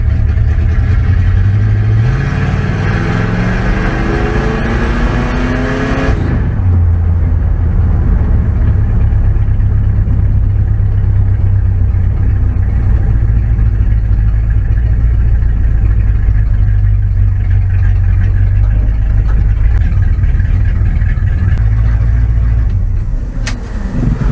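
A car engine idles roughly with a fouled spark plug, a loud, steady low rumble with uneven pulsing that briefly revs and settles near the start, then runs on continuously, close up, with no talking.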